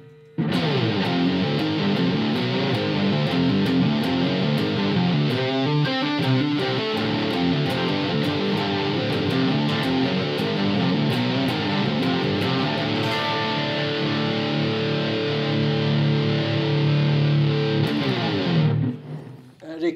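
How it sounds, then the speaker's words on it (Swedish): A Yamaha THR10 amplifier's modern gain channel carries loud electric guitar with heavy rectifier-style distortion, chugging riffs and sustained chords playing continuously for about nineteen seconds before cutting off sharply. "det är en modern gain-kanal, lite åt rectifier-hållet."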